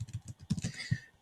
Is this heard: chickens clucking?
no